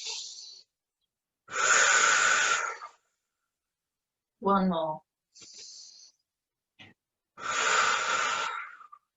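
Deep yoga breaths, slow audible inhales and exhales through the nose, come in long even waves close to the mic, with short spoken instructions in between during a heart-opening yoga class.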